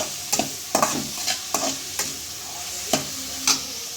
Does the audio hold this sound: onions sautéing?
yes